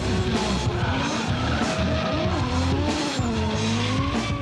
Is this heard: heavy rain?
no